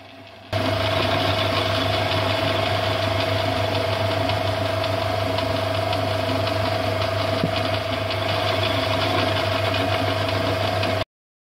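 A lathe fitted with a ball turning attachment cuts a metal sphere, a loud, steady mechanical whir with a constant high whine and low rumble running without a break until it stops abruptly.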